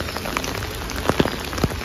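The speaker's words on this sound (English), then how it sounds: "it's raining" Rain falls steadily in Borbollón, Nayarit, a continuous close patter with a few sharper drops striking a nearby surface, probably an umbrella, and no talking.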